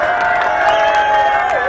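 Audience at a Limbuwan political gathering welcoming newcomers claps and cheers in a sustained, crowded wash of applause, with a droning tone running underneath throughout.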